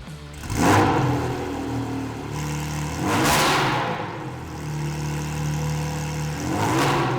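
A Porsche 718 Spyder engine revs repeatedly in a garage, three loud surging bursts of throaty exhaust through the factory muffler over a steady idle.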